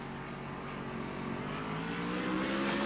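A BMW race car pulls out of the pit lane, its engine note climbing steadily in pitch as it accelerates, moderately close and heard alone.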